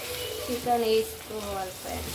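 Chicken going into a hot pan with ginger and turmeric for a chicken curry, a soft sizzle with some watery bubbling and brief scraping, fairly quiet and short.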